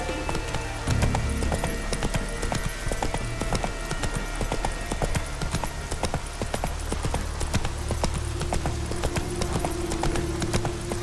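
Roach, Geralt's horse in Witcher 3, galloping with steady, close hoof clip-clops that continue throughout, over a constant wash of ambient game sound.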